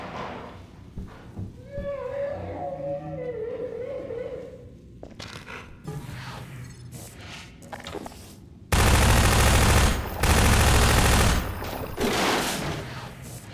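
A charged rifle firing in Half-Life 2, loud dense bursts of gunfire arriving after quieter game sounds and a whining tone, with two heavy volleys that nearly fill the final seconds.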